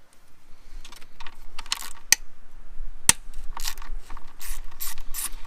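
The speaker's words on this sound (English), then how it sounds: "We'll pull the 8mm bolts for the intake and it should kind of come out like this" A ratchet loosens the 8mm intake manifold bolts on a Mazda 6 3.0 engine, with quick bursts of close, crisp clicking and two sharp metallic snaps.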